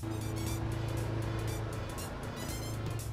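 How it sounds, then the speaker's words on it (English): A muscle car engine sound effect from a poorly made video game, a steady, thin buzzing drone closer to a lawnmower than a big V8, holding a constant pitch with faint pulsing. "I actually found a muscle car sound effect on YouTube"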